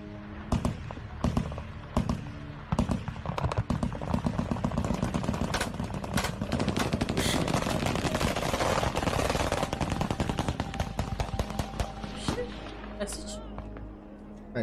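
Rapid bursts of heavy artillery fire aimed into the sky crackle almost continuously, dense and loud, with echoing booms layered together for the whole stretch.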